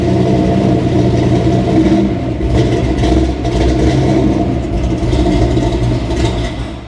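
A car engine cranks, catches and revs with a rough, rattling clatter, running loud and close and wavering as the throttle rises and falls.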